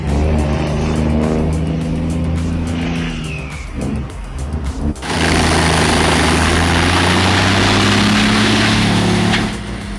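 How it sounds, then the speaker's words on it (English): A truck-mounted Brooks 805 wood chipper powered by an Iveco engine runs with a steady droning engine note and whining turbo spool, dipping briefly midway, then swelling again into a loud, sustained roar with noisy grinding. "I love to hear that turbo spooling."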